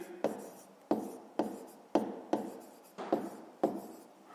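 A pen writes out a math exercise by hand in six or seven sharp, regular strokes, each a crisp scratch that fades, close and quiet with no talk.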